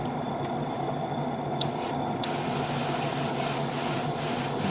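An airbrush sprays an orange coat onto a 1/100 Master Grade Zeta Gundam Ver Ka model kit. It makes a steady, close, loud hiss, with short bursts of sharper spray near the start, and no voices.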